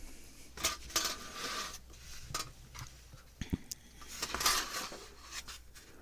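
A knife cutting through craft material, several short scraping and tapping strokes with small metallic clicks, close and fairly quiet, with no talking.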